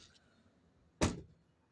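A single sharp thud of a truck door being shut, close and abrupt after a quiet stretch, quickly fading.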